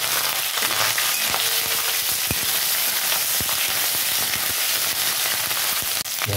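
Tomato and ginger hit hot oil in a pan while cooking dal, giving a loud, steady sizzle and crackle of frying with occasional pops, close and continuous throughout.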